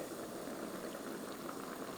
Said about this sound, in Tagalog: Kumukulo na uli.